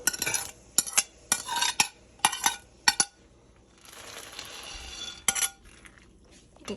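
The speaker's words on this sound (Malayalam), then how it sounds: "ഞാൻ സ്റ്റെയർ ചെയ്തുകൊണ്ടിരിക്കുവാണ്" A utensil scrapes and clinks against a pot of boiling plum cake mixture with raisins in quick bursts, pausing briefly, over a soft bubbling simmer in between.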